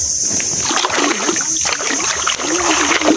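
Freshly caught crabs are washed in water with loud, continuous splashing and sloshing close by, and a voice can be heard talking over it.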